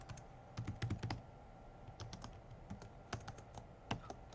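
Someone types on a computer keyboard in quick bursts of clicking keystrokes separated by short pauses, close and fairly quiet, with no talk over it.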